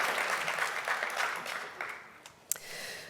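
An audience at a CSUN business college event applauds the Dean of the Nazarian College of Business and Economics, a fairly quiet, dense patter of clapping that thins out over a few seconds, with one sharp louder clap near the end.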